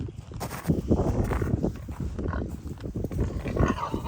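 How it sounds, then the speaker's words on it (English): Pigs grunt and squeal repeatedly at close range on a farm, with shuffling hooves and farmyard movement throughout. "Looks like a boy pig got in."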